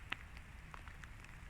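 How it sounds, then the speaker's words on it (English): Rain falls in a wet forest, a faint steady patter of drops with a few sharper close drips, no voices. "I like being out in the rain."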